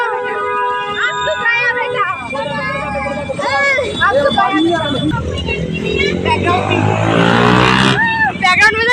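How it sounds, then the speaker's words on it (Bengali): Several people talk loudly nearby while a motorcycle engine idles, then revs up louder toward the end. "বাইকের সাউন্ড"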